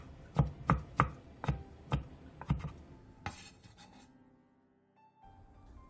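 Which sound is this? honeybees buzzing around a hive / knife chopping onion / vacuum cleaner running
knife chopping onion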